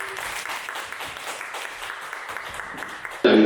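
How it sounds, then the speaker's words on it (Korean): Lecture audience applause welcoming a professor, a fairly soft, continuous patter of clapping that holds steady until a sudden louder noise cuts in at the end. "박수로 맞아주시기 바랍니다"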